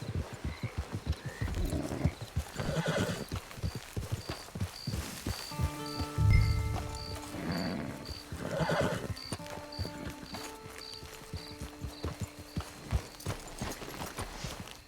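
In the video game Red Dead Online, a horse snorts and neighs in a drawn-out whinny midway while hooves clop in a steady close rhythm throughout, alongside faint rain-like patter.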